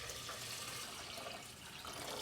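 Water pours steadily into a cooking pot holding two cups of short grain brown rice, a soft continuous rushing splash at low level with no talking over it.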